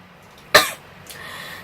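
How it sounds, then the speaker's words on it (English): A single sharp cough close by, followed by a brief quieter sound and faint background hum. "that I'm coughing already"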